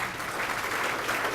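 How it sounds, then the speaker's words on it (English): Audience at a STEM scholar and mentor orientation giving a brief burst of steady, fairly faint applause. "Would you stand so we can clap for you?"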